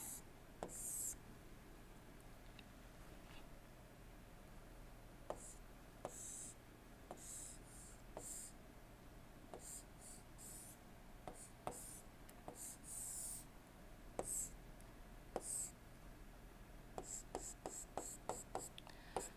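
A marker or chalk scratches and taps on a board while an engine cycle diagram is drawn in a quiet lecture room, with bursts of rubbing strokes and sharp dot-like clicks.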